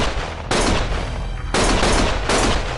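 Sustained gunfire from the video game Lost Judgment, loud continuous bursts of shooting in three heavy waves with brief lulls between, no talk.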